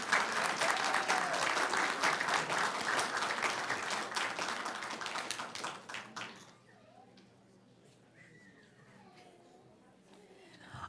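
An audience at a school board meeting applauds an honored teacher, loud sustained clapping for about six seconds that then fades out, leaving a quiet room with faint voices.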